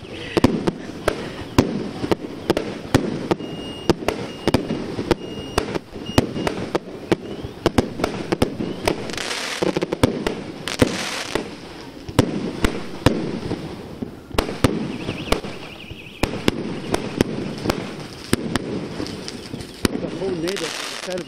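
Fireworks and firecrackers crackle and bang in dense, continuous volleys at a Tibetan New Year's Eve celebration, loud and close with sharp repeated pops, some distant voices mixed in.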